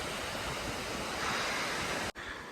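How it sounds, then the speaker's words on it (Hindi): A waterfall formed by a mountain stream on the Chandernahan lakes trek, a steady broadband roar of falling water heard up close and continuous, with a brief dropout near the end and no talk. "उसी से ये वाटरफॉल क्रिएट हो रखा है"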